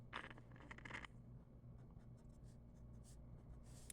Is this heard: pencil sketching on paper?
yes